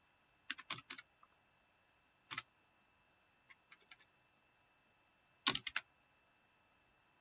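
Computer keyboard keys tapped in short scattered bursts of a few clicks each, with pauses between, close and fairly quiet, no voices.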